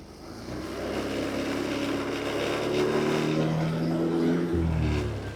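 A motor engine revved with the throttle during a voltage check, a sustained droning hum that climbs in pitch and holds, then drops near the end, fairly close with no talk.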